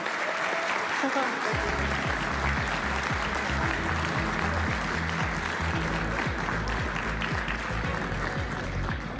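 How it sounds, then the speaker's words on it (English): An audience at the European Open 2025 pool tournament final applauds the champion Joshua Filler with sustained, loud, dense clapping that runs on for about nine seconds, with a faint voice underneath. "Round of applause, ladies and gents."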